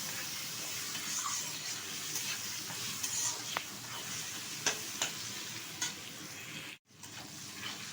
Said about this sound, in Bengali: একটু নেড়ে চেড়ে নেব তেলের সাথে মাথাটা।